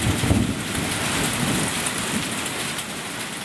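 Steady heavy rain pours down during a slow-moving thunderstorm in tornado country, with low rumbling thunder beneath the dense, continuous hiss; no one speaks.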